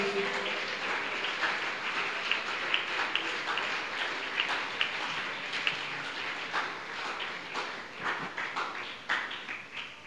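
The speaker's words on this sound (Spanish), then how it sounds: "bríndele ese aplauso fuerte a Jesús." Applause from a congregation at a Spanish-language religious gathering, a moderate, continuous patter of clapping with scattered sharper claps, heard fairly distantly and alone.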